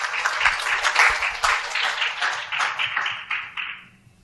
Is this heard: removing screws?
no